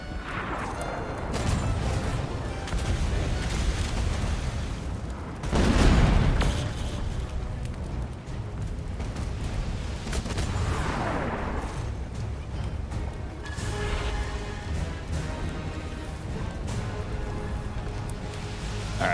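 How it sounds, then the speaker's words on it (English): Ship's starboard cannons fire in ARK: Genesis, a few heavy booming blasts, one loud burst standing out above a steady roar of sea and game ambience. "I'm gonna go ahead and use my starboard cannons"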